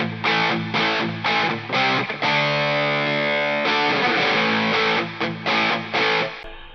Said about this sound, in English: So we're going to go boost into distortion, okay? So here's my distortion sound.